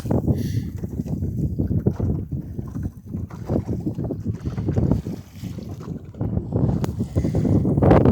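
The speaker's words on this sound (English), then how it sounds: "Bouncing across the waves." A sailboat broad reaching back into Gloucester Harbor on a September afternoon, its hull thumping and slapping through waves under constant loud wind buffeting, with no talking.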